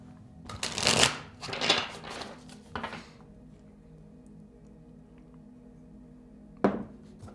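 Tarot cards are shuffled close by in a few quick riffling bursts, followed by a quiet stretch and one last sharp card snap near the end.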